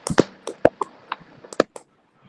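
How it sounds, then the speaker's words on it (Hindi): Worshippers at a women's fellowship prayer meeting clap their hands, about a dozen sharp, scattered claps close by in an uneven rhythm, then fading into quiet. "आइए ऊंचे ताली लगाते हैं"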